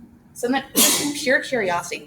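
A single sharp sneeze bursts out close by, amid a person talking steadily before and after it.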